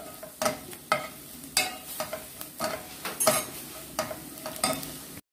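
Spices sizzling in hot oil for a tuna curry while a spoon stirs and scrapes the pan in regular strokes, close and moderately loud, with no talking.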